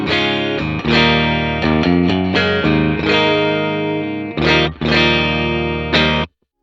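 Distorted electric guitar through a Matchless DC30 Channel 1 amp model at default settings plays loud chords and riffs with chorus shimmer, ringing out several phrases before stopping abruptly.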